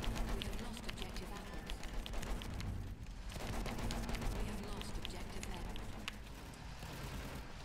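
Gunfire crackles through a dense Battlefield 1 battle soundscape, a steady wash of shots and rumbling noise running the whole time while people talk over it.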